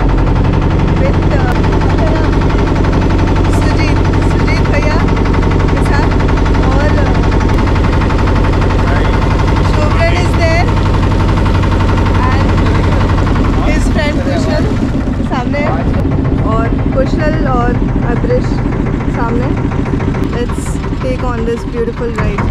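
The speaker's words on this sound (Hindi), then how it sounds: "अभी तो finally boat ride is on" Motorboat engine droning loud and constant during a ride on the Ganga at Varanasi, with a dense, rattling mechanical roar that eases a little partway through. A voice talks intermittently over the noise.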